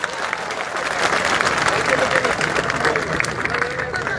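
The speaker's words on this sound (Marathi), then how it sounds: "या लेकराच्या नावाने सर्वांनी टाळ्या वाजा राजा हो" A crowd at an outdoor hunger strike rally in Jalna claps together, a dense, loud wash of applause that swells and holds for several seconds, with voices mixed in the din.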